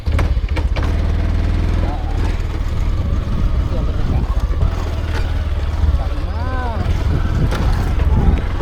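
A vehicle engine drones steadily up close during a ride through rural countryside, a low, rough, continuous hum with brief higher tonal sounds over it.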